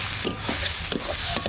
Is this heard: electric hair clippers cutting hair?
no